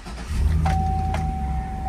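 A 2005 Chevrolet SSR pickup with the larger motor and under 4,000 miles fires up from cold, settling into a steady, close low rumble with a thin whine riding on top, no voices.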